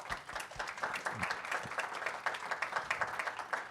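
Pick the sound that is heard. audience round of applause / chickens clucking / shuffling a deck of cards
audience round of applause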